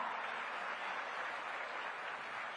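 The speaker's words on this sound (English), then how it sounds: "Let's give a round of applause." Dense, steady applause from a luncheon audience after an Orlando Ballet performance, a sustained wash of many hands with no voices on top.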